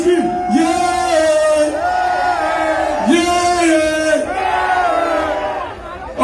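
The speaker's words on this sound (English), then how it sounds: "Let me hear you scream, yeah!" A festival crowd roars, screams and cheers in loud, sustained waves of massed voices, swelling and dipping across the whole stretch.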